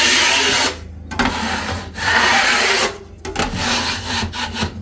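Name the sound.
scraping back dried cornice mud on drywall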